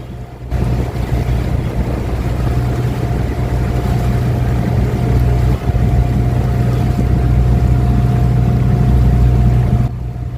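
A water bus motorboat in Dhaka passes under a bridge, its engine a steady, loud, close drone with a constant hum and rushing water noise throughout, briefly dipping midway.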